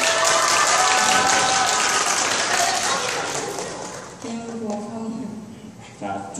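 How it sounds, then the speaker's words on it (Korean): Applause from an audience at an elementary school orchestra summer camp, loud clapping that thins out midway while a voice talks over it. "박수 한번 보내주시죠"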